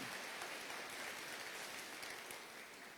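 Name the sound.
audience applause, clapping hands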